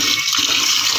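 Rice soaking for kheer is washed in water, making a brief, steady wash of sloshing and splashing, close and fairly loud.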